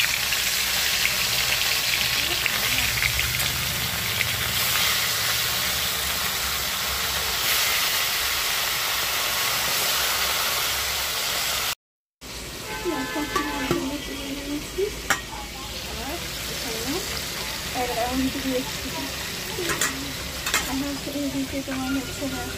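Fish dropped into hot oil fry with a loud, close, continuous sizzle, the hiss briefly cutting out and then returning with stirring and bubbling crackles.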